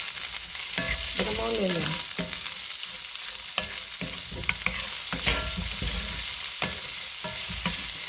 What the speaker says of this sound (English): we're going to saute up these onions